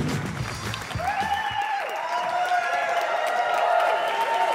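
Studio audience applause and cheering during a comedy mystery show, a dense wash of clapping with whoops and laughter rising over it, steady and fairly loud throughout with faint voices mixed in.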